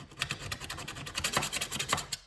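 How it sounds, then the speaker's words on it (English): A hard, flat chisel edge scrapes silicone off an aluminum window frame during a window restoration, producing a rapid series of short raspy strokes, close and fairly quiet, with no talking. "again, I like using the edge of my chisel."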